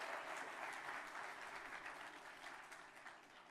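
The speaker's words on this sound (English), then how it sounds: "Round of applause if you were here and you saw that." An audience claps in sustained, dense applause at a university event celebration, loud and even at first and then tapering gradually, with no talk over it.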